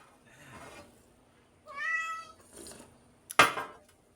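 Pet cats meowing at feeding time, with a few separate meows spread over several seconds followed by a sharp clatter, in a quiet indoor setting.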